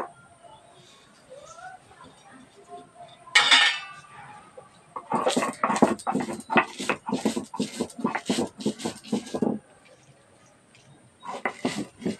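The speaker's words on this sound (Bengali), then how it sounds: "যে মশলাটা ভেজে রেখেছি সেটা এখন শিলনোড়ায় বেটে নেব" Dry-roasted spices being ground without water on a stone shil-nora slab: a short scrape, then a long run of rhythmic, close grinding strokes, a pause and a few more strokes at the end.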